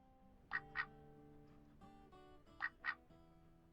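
A mallard duck call in the hunting video game BULT: two pairs of short, sharp quacks, fairly close and clear, over a faint tonal background.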